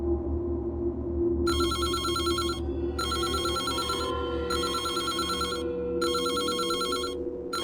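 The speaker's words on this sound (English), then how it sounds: "The phone again." An old-style telephone in the video game Reverse 1999 rings in four evenly spaced bursts of bright metallic bell trills over a low ambient music bed, with no voices.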